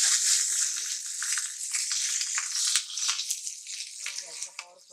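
Spices roasting in half a teaspoon of oil in a kadhai, a bright hissing sizzle with scattered crackles and pops, close and fairly loud, fading slightly toward the end.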